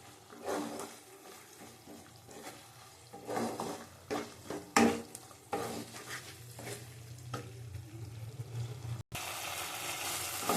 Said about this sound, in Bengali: এটা ভালো করে কষিয়ে নিতে হবে আবার